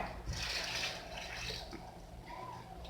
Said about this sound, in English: Now we are going to add the water.